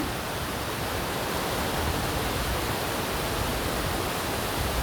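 Waterfall at Luchon in the Pyrenees, a steady broadband roar of falling water, constant and fairly distant, alone with no voices.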